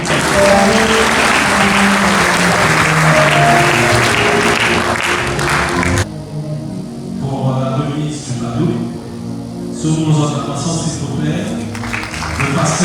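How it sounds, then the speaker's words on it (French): A wedding congregation claps loudly and steadily in praise of the Lord for about six seconds at a couple's nuptial blessing, then the clapping stops abruptly and someone speaks into a microphone. "Est-ce que nous pouvons acclamer le Seigneur?"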